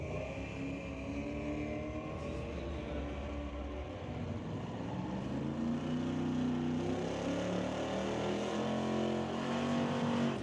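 Race cars, including a Pontiac, drive at Mission Raceway Park with a continuous engine roar that rises in pitch as they accelerate and grows louder toward the end, with no talk over it.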